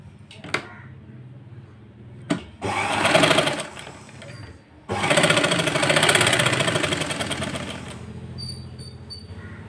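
A sewing machine stitching a blouse runs in two bursts of fast, steady mechanical whirring, close and loud, separated by short pauses and clicks, with a voice speaking briefly.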